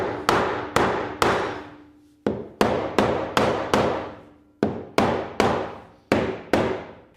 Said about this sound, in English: After waking up all the neighbors within a 3-mile radius with my voracious midnight hammering